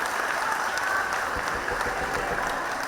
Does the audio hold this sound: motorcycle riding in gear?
no